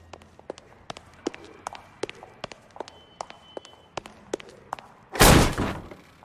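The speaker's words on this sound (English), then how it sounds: "Don't bother knocking, just kick the door in." A door is kicked in during a homicide case in the video game L.A. Noire: a run of quick, sharp footfalls and knocks builds to one loud, near, booming crash near the end, with no talk.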